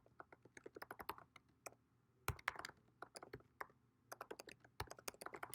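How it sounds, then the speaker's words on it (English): Keys clatter on a computer keyboard in quick bursts of typing with short pauses between them, close and fairly quiet, with no talking. "probably helps if I type that right."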